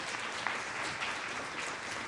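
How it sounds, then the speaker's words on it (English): Steady, dense audience applause at an event honoring government and private sector participants, a continuous wash of clapping from many hands at moderate distance with no pauses. "please give them another round of applause"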